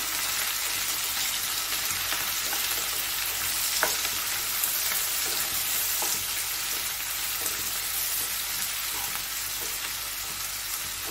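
Garlic and onions fry in a pan for a Chinese dish, making a continuous, even sizzle with faint stirring clicks now and then, and no one speaks.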